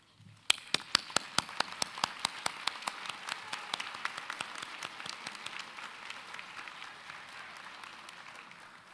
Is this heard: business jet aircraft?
no